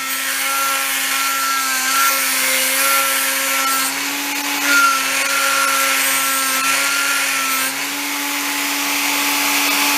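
Electric rotary tool driving a flexible shaft runs continuously at a steady high whine, loud and close, with slight pitch shifts as the speed changes and no talking.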